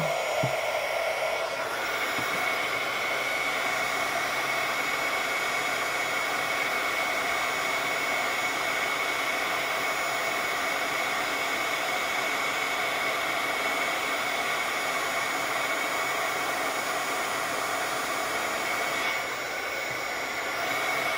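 Heat tool blowing steadily to melt embossing powder on a Halloween card, a continuous hair-dryer-like whoosh of air running close and evenly for the whole stretch with no talk.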